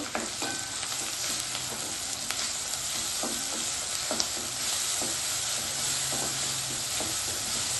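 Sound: ground green chili paste added to a hot pan, frying

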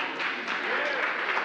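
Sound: audience clapping for the panel

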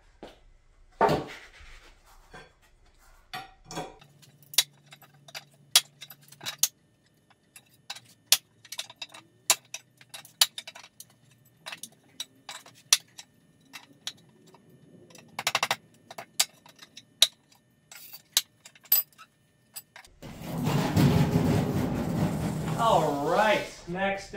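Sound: pulling nails out of pallet boards

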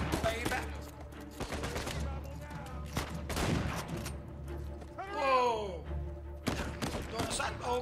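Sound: shotgun gunfire in the video game Uncharted 4

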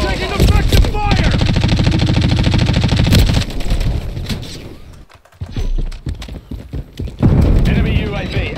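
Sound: gunfire in a video game

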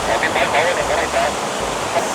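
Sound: waterfall with lots of flowing water

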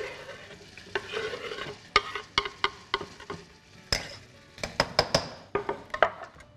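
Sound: onions and garlic sizzling in pot

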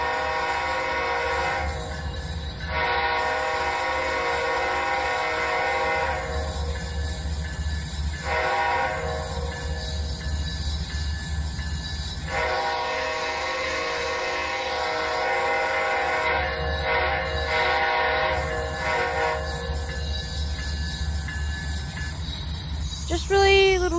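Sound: K5HL locomotive horn and engine in a train simulator video game

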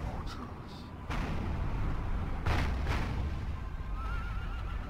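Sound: artillery shots firing in Third Age Total War video game

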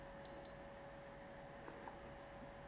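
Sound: SwitchBot Smart Humidifier beeping during pairing

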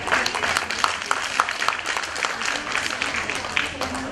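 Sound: audience applause welcoming a recital performer

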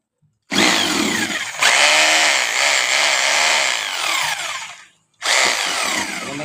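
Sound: repaired hammer drill machine running

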